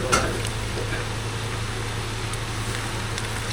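Flour-coated chicken pieces drop into hot oil and fry with a steady, close hiss and crackle that holds evenly throughout, over a low background hum.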